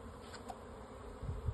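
Honey bees buzz faintly and steadily at close range while a package of bees is installed in a hive, with a couple of low soft bumps near the end.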